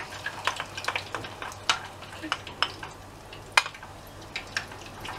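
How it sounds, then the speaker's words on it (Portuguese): Onion and garlic frying in olive oil in a hot pan give a soft, steady sizzle, punctuated by frequent sharp spatula scrapes and taps at an irregular rhythm, with no talking. "E vamos deixar isto fritar aqui um pouco."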